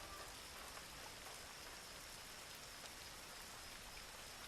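Steady rain falls at night on London city streets, an even, dense hiss of drops spattering hard surfaces that holds constant throughout, quiet and close with no voices or other sounds above it.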